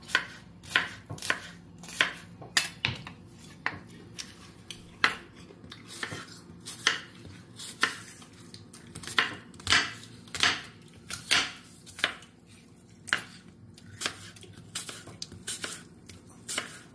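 Royal Gala red apples being chopped with a knife: crisp, evenly spaced cuts in a steady rhythm, close and clear with no talking.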